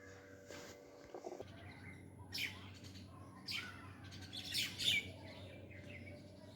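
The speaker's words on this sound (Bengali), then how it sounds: "পাখির কিচিরমিচির কলতান শব্দ কার না ভালো লাগে।" Myna birds calling near a nest while feeding chicks: several short, scattered squawks and chirps at moderate distance over quiet ambient background, with a faint low hum in the first second.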